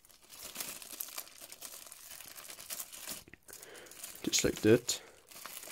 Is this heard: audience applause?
no